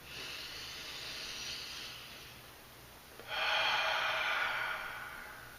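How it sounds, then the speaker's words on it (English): A long, deep inhale through the nose, close and hissing, pausing briefly before a second stronger breath draws in and slowly fades. "You got to breathe in."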